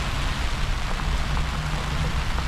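Steady rain falling on an urban campsite, a dense, constant hiss of drops close by with no voices, unbroken throughout.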